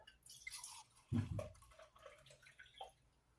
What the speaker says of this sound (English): Get a good pour with this cup.